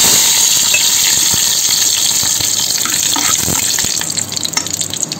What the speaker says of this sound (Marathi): आपलं तेल चांगलं तापलंय, आता त्याच्यामध्ये टाकूया सगळे अख्खे मसाले